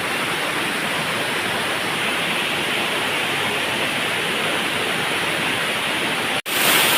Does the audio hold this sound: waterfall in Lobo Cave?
yes